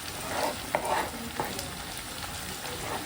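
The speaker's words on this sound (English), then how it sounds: "We're gonna add in the tomatoes and let them cook down for a few minutes." Tomatoes simmering down with onions and garlic in a pan, a steady soft sizzle with a few scraping stirs from a utensil, close and moderately quiet, no talking.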